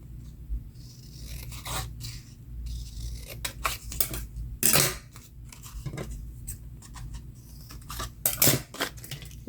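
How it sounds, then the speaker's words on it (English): Scissors cutting thin strips of blue paper for a junk journal, a series of crisp close snips and paper rustles at an uneven pace in a quiet room. "I'm just going to cut 3 strips of this blue"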